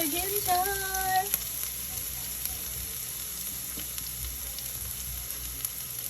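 Ginger hits hot oil in a pan while cooking Filipino chicken afritada, giving a soft, steady sizzle that continues after a brief tonal sound at the start.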